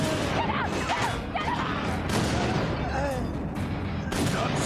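Rapid gunfire from the shooter video game Inversion cracks in quick bursts, loud and close. Voices speak over the shots.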